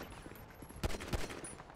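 Gunfire in a GTA NoPixel roleplay shootout: two quick, muffled shots sound over a low background rumble, fairly faint and at a distance, with no talking.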